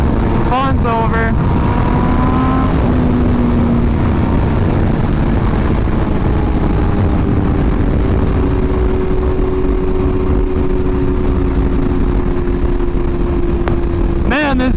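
A 2023 BMW S1000RR motorcycle being ridden, its engine droning loud and steady with brief revving at the start and end, wind rushing over it, and a voice speaking at times.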